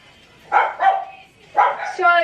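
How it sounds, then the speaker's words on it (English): Dogs bark indoors in a house, two pairs of sharp barks close by, the last one trailing into a whiny yelp. "Apologies for my dogs barking."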